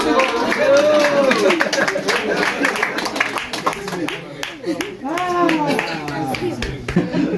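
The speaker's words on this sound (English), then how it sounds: "So happy birthday. Let's clap for her." A group claps for a girlfriend's birthday, steady rapid hand claps filling the clip under loud, overlapping voices and cheering.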